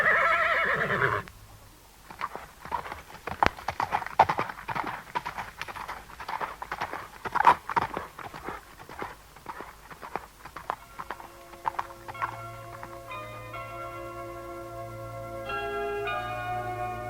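A horse whinnies loudly and its hooves clip-clop in an irregular trot on the Winnetou trail, the neighing and hoofbeats fading as steady bell-like tones rise toward the end.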